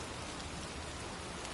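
Steady rain pours in a scene of the video game Heavy Rain, an even, dense hiss of falling drops that stays close and constant, with no voices.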